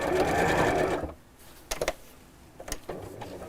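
A sewing machine runs steadily for about a second as it stitches a quarter inch around the edge of a design, then stops, leaving only faint handling clicks and quiet room noise.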